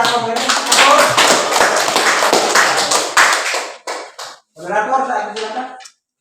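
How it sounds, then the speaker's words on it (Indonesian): Audience applause for the moderator at an academic exam session, a dense clatter of many hands lasting a few seconds before it breaks off and a single voice begins speaking nearby. "sebelum kita memberikan aplaus kepada moderator"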